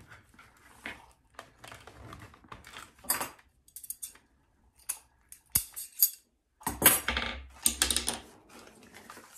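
Scissors snip through a ribbon tail while a wreath bow is made on a Bowdabra, giving sharp, close cutting and rustling sounds in irregular bursts amid handling noise, with no talk.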